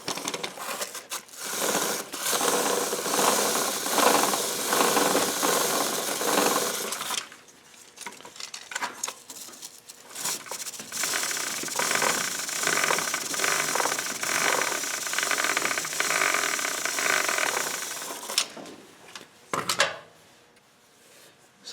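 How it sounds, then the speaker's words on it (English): Brush scrubbing a kerosene-soaked motorcycle O-ring chain, a close, busy scratchy rasp in repeated strokes that pause briefly midway and near the end, with no talking. "Now take your brush and brush the chain."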